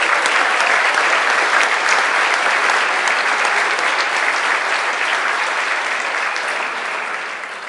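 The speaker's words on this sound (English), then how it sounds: "give the committee a big round of applause for all their work together" An evening event audience gives the organising committee a big round of applause, a loud, dense wash of many hands clapping steadily throughout before tapering off slightly at the end.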